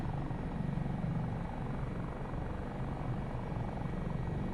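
A helicopter in Microsoft Flight Simulator, a steady unbroken rotor and engine drone with a low chopping pulse, continuous and even throughout.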